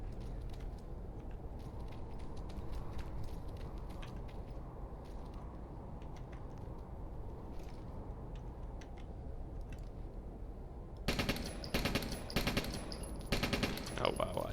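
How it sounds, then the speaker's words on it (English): Distant rapid gunfire bursts in the Wargames video game, faint crackling volleys under a low background hum, turning louder and denser in the final few seconds. "I can still hear gunfire coming from here"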